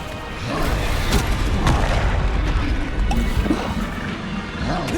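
Bombarda blasting spell cast in combat in Hogwarts Legacy, a dense rumbling explosion with crashing debris that stays loud and churning for several seconds, boom-like and continuous rather than a single sharp hit.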